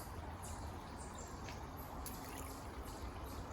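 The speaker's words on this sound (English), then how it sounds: "A babbling brook." An outdoor babbling brook, a steady, soft hiss of flowing water that continues evenly throughout, with faint bird chirps above it.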